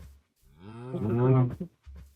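A single cow in the Minecraft video game gives one drawn-out, fairly loud moo, preceded and followed by short bursts of low sound.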